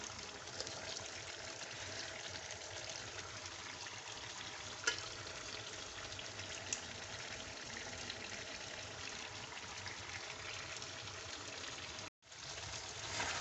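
Karahi gosht with tomatoes sizzles steadily in a karahi, a continuous faint crackle and bubble of frying with soft stirring ticks, broken briefly by a short gap near the end.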